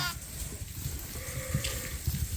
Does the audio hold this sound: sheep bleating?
yes